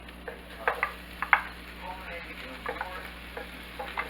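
Leftover black-eyed peas with turkey meat going into a hot pan, a close low sizzle with a few clattering stirs and scrapes, plus faint background hum.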